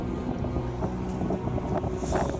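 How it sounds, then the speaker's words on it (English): Steady broadband wind buffeting a microphone, a constant low rumble with gusts swelling and fading throughout, no voices. "Sorry about the wind."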